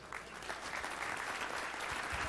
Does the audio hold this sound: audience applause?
yes